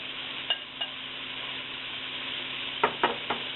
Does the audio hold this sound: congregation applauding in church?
no